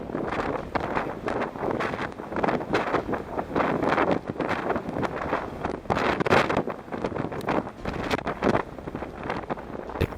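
Strong, gusty wind roars across the exposed summit of Mount Washington, a steady broadband rush with rising and falling surges buffeting the microphone throughout, loud and continuous with no voices.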